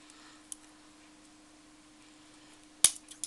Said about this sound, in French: Ben, je vais le couper là avec mes ciseaux.